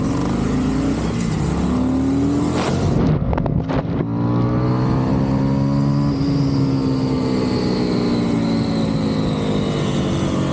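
Indian FTR 1200 motorcycles, one with an Akrapovic exhaust and one a carbon edition, accelerating hard in a short race, loud rising engine revs through gear shifts with wind rush.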